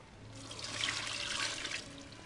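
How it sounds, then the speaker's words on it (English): Liquid is poured into a 7-quart pressure canner holding beef chuck, a soft gurgling stream that swells in the middle and tapers off, fairly quiet and close, with no talk. "So now we're going to pour our"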